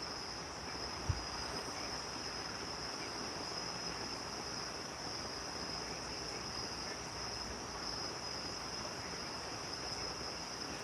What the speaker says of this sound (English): What I hear are actually the crickets out here.